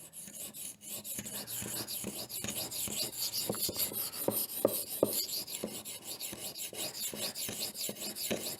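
An 8Cr13 steel knife blade being sharpened on a whetstone, steady rhythmic rasping strokes scraping back and forth, close and continuous with no talking.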